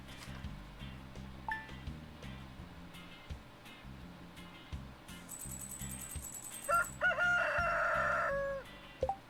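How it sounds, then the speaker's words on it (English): A rooster crows in the farming game Stardew Valley, a loud, drawn-out call rising near the end over a quiet, steady game music loop with a few soft chimes. "Cock-a-doodle-doo."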